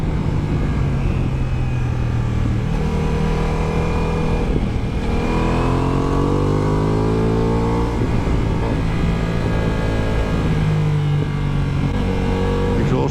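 A Ducati Multistrada V4S carrying panniers roars loudly and steadily on the open road, its engine note rising and falling through gear changes under constant wind rush. Scattered crackles from the exhaust sit within the drone.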